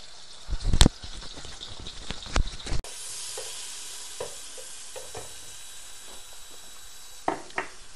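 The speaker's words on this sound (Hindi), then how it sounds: "अब दूसरी तरफ मैंने ऑयल गर्म कर लिया है, इसमें ये मैं चिप्स बना लूंगी।" Chips frying in hot oil: the oil sizzles and hisses steadily, with a few sharper crackles and clatters of utensils near the start and end.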